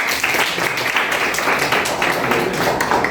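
A large audience at a college appreciation ceremony claps for a class representative, with loud, dense, steady applause filling the room without pause.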